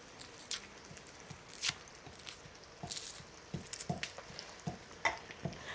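Onion frying in a pan with whole garlic cloves for Bihari-style chicken rassa over a wood-fired stove, a soft steady sizzle with scattered stirring scrapes and clicks that grow busier toward the end.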